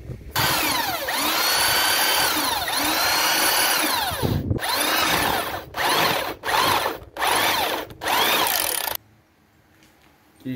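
A handheld power drill bores through a workpiece, whining loud and close in long sustained runs, then several short bursts with brief pauses, ending in near silence.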